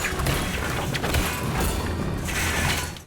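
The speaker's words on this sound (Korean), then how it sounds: "구조물이 무너져 내리기 시작했고" A loud, continuous crash of a structure giving way, with rumbling, crunching thuds and creaking debris for about three seconds.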